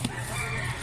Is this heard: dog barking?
no